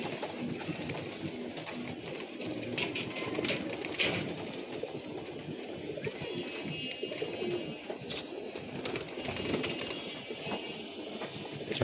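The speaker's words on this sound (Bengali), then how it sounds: "মামা আমার খাবার দিতেছে কবুতরগুলাকে।" Pigeons in a loft coo and shuffle while they are being fed, a soft continuous murmur with occasional light knocks and rustles.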